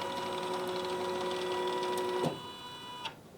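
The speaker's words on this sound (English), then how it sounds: "So the arm that holds the hoop is going to move over" A Janome CM17 embroidery machine drives its hoop-holding arm across to the centre position, a steady whirring motor drone that halts with a click, followed by a second brief clunk.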